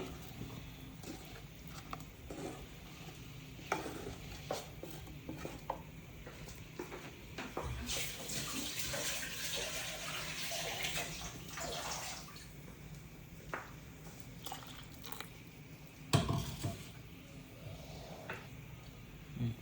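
Water is poured into a pan of home-cooked fish curry, a steady splashing gush swelling for several seconds in the middle and set amid quieter kitchen clatter.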